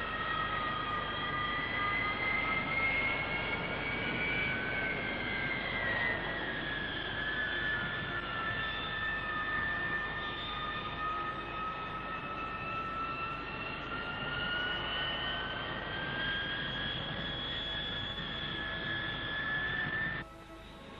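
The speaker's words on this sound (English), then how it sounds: "He holds his vampire low on takeoff to avoid the jet wash of the other aircraft." De Havilland Vampire jet fighters of a 1960s aerobatic team take off in formation, a loud sustained turbine whine with a sweeping high-pitched tone over a broad roar throughout.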